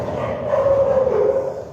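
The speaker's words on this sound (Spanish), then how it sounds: "hay un pleito de perros aquí." Dogs scuffling and barking nearby, a sustained run of yelping, snarling barks that swells through the middle and stays loud for the whole short stretch.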